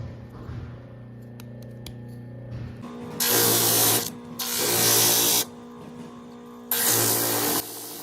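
Bursts of a powered sanding tool working a small wooden spoked wheel part for a toy car, three loud hissing passes separated by a steady low motor hum, up close and without talk.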